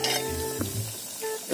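Pot of utan bisaya, a Visayan vegetable soup with malunggay, bubbling on the stove, with steady close sizzling and simmering and a few faint clinks of cookware.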